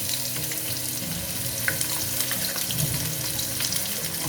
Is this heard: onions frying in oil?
yes